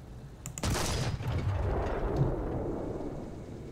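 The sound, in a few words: Marder III tank destroyer gun firing in War Thunder video game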